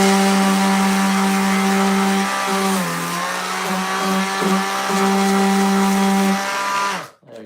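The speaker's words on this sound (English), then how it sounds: "See if the sander will help me out a little bit." A power sander grinds against wood in a steady, loud whine for about seven seconds, the pitch dipping briefly under load before the motor cuts off abruptly at the end.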